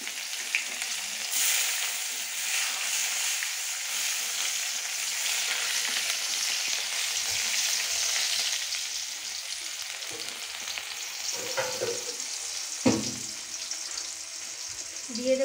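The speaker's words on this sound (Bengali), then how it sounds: "এবার আমি পেঁয়াজটা দিয়ে দেবো।" Onions sizzling and frying steadily in a pan as the base for a Bengali lata fish curry, a continuous hiss with a few stirring knocks near the end.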